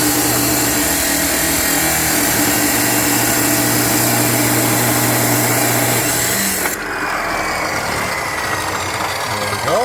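Steel tractor PTO shaft being cut by a power tool, heard as a loud, continuous grinding roar up close that drops in pitch and eases near the end, while someone speaks briefly over it.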